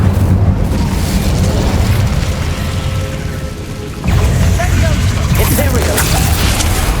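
An Incendio fire spell goes off in the wizarding game Hogwarts Legacy, a loud roaring burst with rumbling effects that dips briefly before a second forceful whoosh and crackle.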